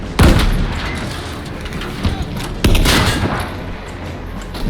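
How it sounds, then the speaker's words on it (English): Tank in Battlefield 5 firing at a half-track, two heavy booming cannon blasts a few seconds apart amid loud, rumbling battlefield gunfire and explosions. "Shoot this half track."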